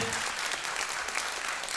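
Dense audience applause in a Turkish entertainment show, steady and continuous through the short stretch, close and fairly loud.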